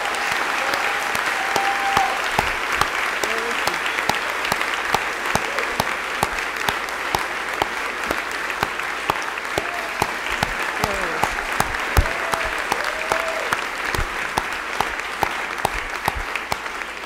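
Sustained audience applause at the Amherst College convocation, many hands clapping steadily in a large hall for the full stretch, with scattered louder claps and faint voices underneath.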